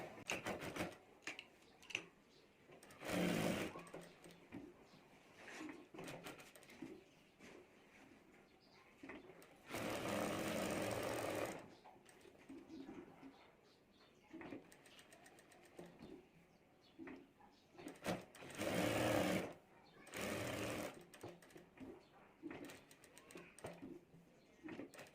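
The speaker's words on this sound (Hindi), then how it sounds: "और अब यहाँ से हमें सिलाई कर देनी है।" Sewing machine stitching fabric for a handmade bag, short, faint runs of rapid mechanical whirring in three separate bursts, with quiet handling noises in between.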